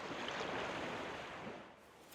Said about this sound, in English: I heard the sound of waves crashing up ahead